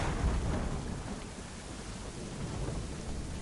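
Steady rain and low rolling thunder fill a stormy scene in Assassin's Creed 3, a dense wash of downpour with deep rumbles throughout, no voices.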